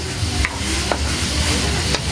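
Ground pork menudo being stirred in a hot pan with liquid seasoning, a steady sizzle running throughout with a few scraping strokes of the utensil, close and fairly loud, with no talking.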